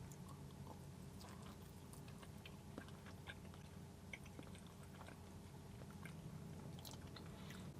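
Someone bites into and chews a beef shumai dumpling, the chewing faint and close against a steady low background hum, with soft, irregular mouth sounds repeating throughout.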